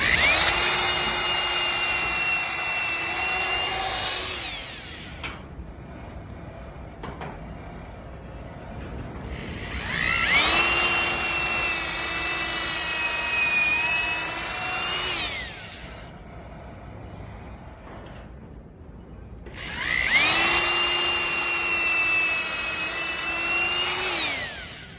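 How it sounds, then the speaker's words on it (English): A power drill pre-drilling holes in lumber posts for a bench swing arbor whines loudly in three long bursts of about five seconds each, separated by quieter pauses, with the motor pitch steady during each run. "You notice I'm pre-drilling everything."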